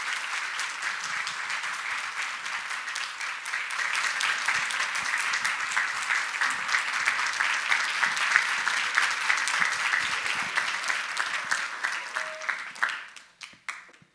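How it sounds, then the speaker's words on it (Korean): A church congregation at a night revival service in Korea gives a long, steady round of applause as a visiting pastor from Ulsan comes forward. The dense clapping grows slightly fuller midway, then stops abruptly after about thirteen seconds. "나오실 때 큰 박수 부탁합니다."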